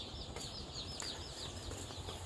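Chickens on a farm cluck and chirp faintly in a busy, continuous chorus, heard at a distance over a low background hum.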